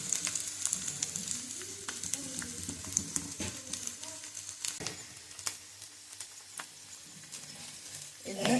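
Papaya and egg fry together in a pan, giving a light steady sizzle with scattered clicks and scrapes from stirring. The sound is close and fairly quiet, and no one talks.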